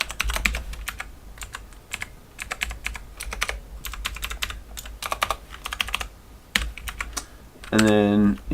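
HTML code is typed on a computer keyboard in rapid close-up bursts of clicky keystrokes with short pauses between runs, and a brief tonal beep sounds near the end.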